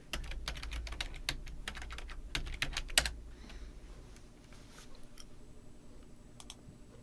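Fingers typing a name on a computer keyboard, a quick run of close, crisp key clicks for about three seconds, then quieter scattered taps with no talking.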